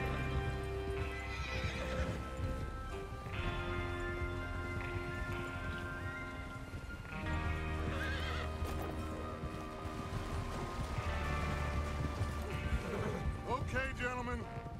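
Horses in Red Dead Redemption 2 gallop with steady clip-clop hooves, and several neighs and whinnies rise over a continuous game soundtrack. A voice talks faintly in the background.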